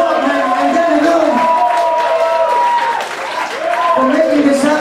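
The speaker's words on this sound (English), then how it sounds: "Can we have a big round of applause for all the wonderful staff at Barbershop?" An audience at a Beatles tribute evening in a Barbershop venue claps and cheers in a dense, continuous wash, with voices calling out over the applause throughout.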